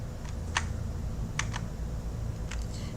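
A few crisp computer keyboard keystrokes, isolated clicks spaced unevenly over a low steady room hum, close and fairly quiet with no talking.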